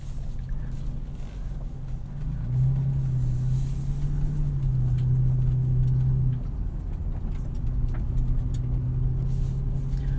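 A 2020 Toyota 4Runner Venture and a modified overland 2014 Toyota FJ Cruiser drive off-road, giving a steady low engine and road rumble from inside the cabin that swells briefly mid-way, with no talking.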